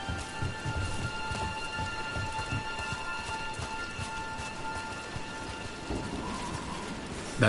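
Steady rain falling and spattering on surfaces outdoors, a continuous hiss with scattered drops and a low rumble beneath, moderately loud and without speech.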